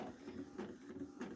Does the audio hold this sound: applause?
no